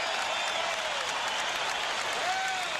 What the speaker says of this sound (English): he got a crowd, gives him a standing ovation